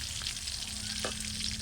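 Fish frying in a hot pan gives a steady, close sizzle that runs unbroken throughout, with one brief stir-like burst midway and no voices.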